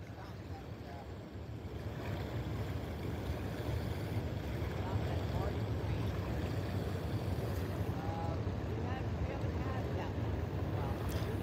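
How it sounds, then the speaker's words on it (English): Waves wash in along a St. Louis river bank with a continuous loud rushing wash mixed with wind buffeting the microphone, while a person talks over it. "A lot of waves coming in now, guys."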